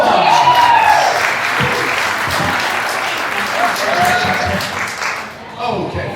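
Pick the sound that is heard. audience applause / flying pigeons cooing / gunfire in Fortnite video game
audience applause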